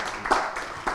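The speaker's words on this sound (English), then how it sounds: "Yep, round of applause." A brief burst of audience applause at a panel discussion on historic preservation, dense clapping filling the short moment, moderately loud with no speech over it.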